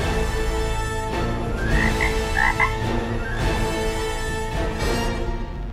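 Frogs croak continuously as the main ingredient for a Thai frog dish, a dense rasping chorus filling the scene steadily and fairly loud, with a few brighter chirps in the middle and no talk.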